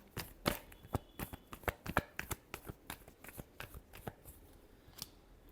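A deck of tarot cards is shuffled in a quick run of sharp, papery snaps and flicks, close and fairly regular, thinning out toward the end.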